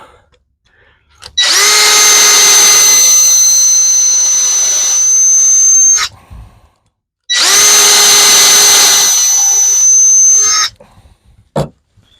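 Two long whining bursts of a power drill driving old drywall screws, each running several seconds at a steady high pitch with a short pause between them, loud and close.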